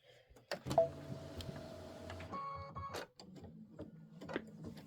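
An Aveneer embroidery machine stitching a tile design, giving a steady mechanical whirr with rapid repetitive needle ticking and a few brief pauses and shifts in pitch, close and moderately quiet.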